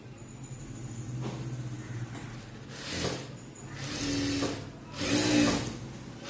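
A sewing machine stitches chudithar fabric in short bursts, each a close, rapid mechanical whir that swells and stops, with brief pauses between runs and no talk.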